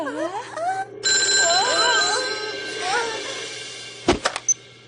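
A telephone ringing in a cartoon scene, a sustained electronic ring over a low hum, with voices talking over it and a few thuds near the end.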